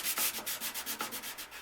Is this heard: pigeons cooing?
no